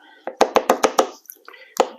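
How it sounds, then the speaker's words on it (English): A spoon knocked against a pot to shake off stuck food while making a vodka sauce ravioli casserole: a quick run of five sharp knocks, then a pause and one more knock, close and loud. "Make sure you knock off your spoon because everything's getting stuck to that."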